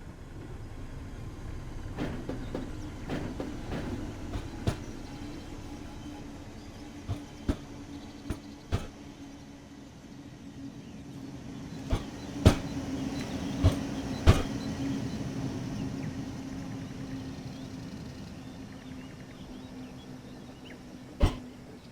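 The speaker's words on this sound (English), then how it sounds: "Your train has arrived." A train arriving on the Mittenwaldbahn route in Train Sim World, a steady low rumble and hum with scattered sharp clicks and clunks from the wheels and cars, fairly quiet and continuous, with no talk.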